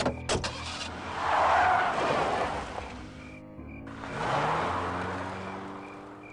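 A car in the video game Full Throttle Remastered drives off in two loud surging engine swells with a brief skid-like squeal, close and dominant, separated by a short quieter gap.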